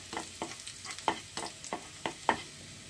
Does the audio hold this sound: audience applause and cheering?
no